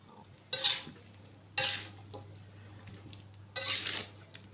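A spatula stirs a bitter melon stir-fry (tumis pare) in a pan with three distinct scraping sweeps, each a short rasp of utensil on metal, over a faint low hum of cooking.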